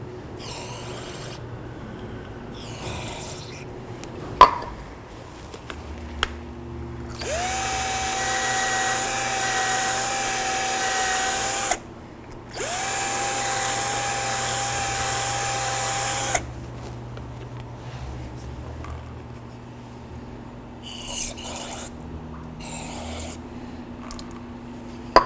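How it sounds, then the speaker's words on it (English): Parts cleaner sprayed onto rear brake parts of a 2003-2009 Toyota 4Runner: two long, loud hissing aerosol bursts of about five and four seconds, separated by a short pause, with quiet workshop clatter around them. "Use a little bit of parts cleaner."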